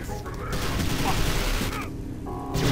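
Grenade blasts and heavy gunfire in the video game Prey roll together in a loud, sustained barrage of booms and crackling shots that stays dense throughout, with a short tonal game sound near the end.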